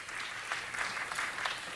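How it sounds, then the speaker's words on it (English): Applause at a city council meeting for a departing council member, a steady, dense wash of many hands clapping through the room, fairly distant and even with no voices over it. "Big round of applause to her."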